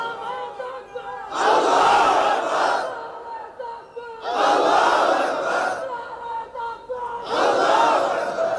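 A crowd at a Bengali Islamic waz sermon chants slogans in three loud unison roars, each lasting over a second, separated by quieter gaps where a single voice leads.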